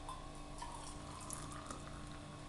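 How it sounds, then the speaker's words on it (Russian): Boiling water being poured into a glass, a steady soft trickling stream running for a couple of seconds, fairly quiet with no talking. "вот я наливаю кипяток"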